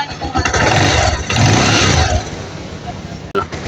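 A Kawasaki Rouser 180 motorcycle engine runs steadily after being started following carburetor troubleshooting, a loud close rumble that holds level for about two seconds and then eases lower, with someone talking over it.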